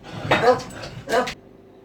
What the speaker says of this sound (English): That's the postman just stuck something through my letterbox and started the dog barking